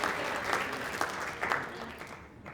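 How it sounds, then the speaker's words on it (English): Audience applause fills a conference room at a digital marketing talk, steady and dense clapping throughout with no voices over it. "Yay, round of applause, ladies and gentlemen."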